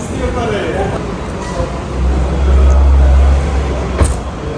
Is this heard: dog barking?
no